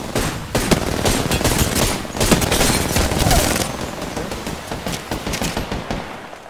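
Dense gunfire from an Apex Legends tournament fight, rapid overlapping volleys and shots close and loud throughout, easing slightly toward the end.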